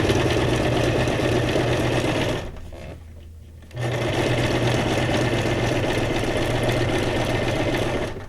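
A sewing machine motor hums steadily and loudly, pausing for about a second midway before resuming its continuous drone.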